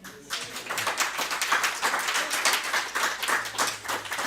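A crowd claps steadily together at the end of a climate change presentation, a dense patter of many hands sustained for several seconds.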